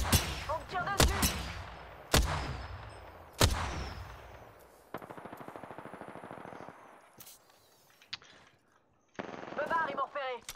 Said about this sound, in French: Attention, on me tire dessus.